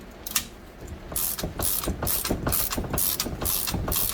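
Spring compressors being cranked down on Yamaha Rhino 660 shocks, a close ratcheting click-click repeating steadily in bursts of several clicks with brief pauses, loud and alone.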